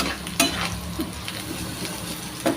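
Sabudana khichdi with nuts and salt is lightly stirred in a pan, giving a brief soft sizzle with two or three gentle spoon scrapes and taps.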